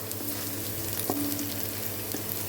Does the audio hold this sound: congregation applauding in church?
no